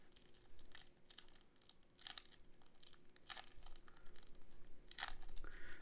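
Dull knife cutting open plastic packaging, a quiet close-up sequence of crinkling, scraping and tearing bursts in an uneven rhythm.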